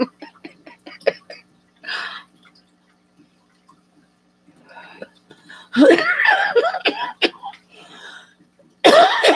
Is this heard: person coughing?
yes